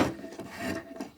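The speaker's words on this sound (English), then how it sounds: "skew the spokeshave a little bit, and start working my way across the surface" A restored Stanley spokeshave shaving a rough bandsawn wood surface, a short close rasping stroke that swells and fades with no talk.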